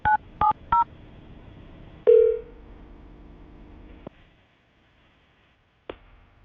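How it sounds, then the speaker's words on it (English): Telephone keypad dialing before a call: three short, clear touch-tone beeps in quick succession, then a louder tone and a faint click in an otherwise quiet line. "we're going to call him, see if we can get him on the phone"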